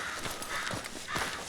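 Horse hooves clip-clop in the Red Dead Redemption 2 video game, a steady run of soft hoofbeats under a broad, noisy background, fairly faint, with no voices.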